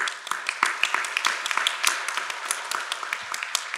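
Scattered clapping from a modest audience at a franchise ownership event honoring a local business owner, individual claps distinct and uneven, moderately loud throughout.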